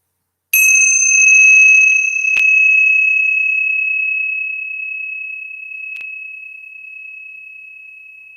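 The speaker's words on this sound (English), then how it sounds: "I'm going to use one of these bells. So I'm just going to hit it once." A small ringing bell is struck once to open a reiki healing session, giving a bright, pure metallic tone that sustains and slowly fades over about eight seconds. A faint light tap sounds partway through, and there is no talk.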